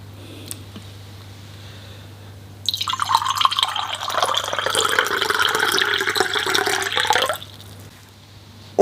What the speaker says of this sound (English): let me pour my cup of champagne.